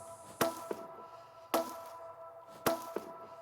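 A layered snare, a ringing pitched snare stacked with a plain crisp snare, strikes three times at an even pace, each crack followed by a lighter ghost hit and a brief tonal ring.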